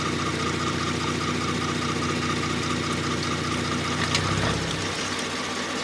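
A 2019 Kia Stinger engine idles steadily while it warms up, with a low, even hum and a slight knocking vibration that holds at a constant level throughout.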